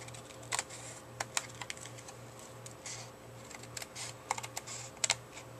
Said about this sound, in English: I'm going to trim all the way around on that little dotted line.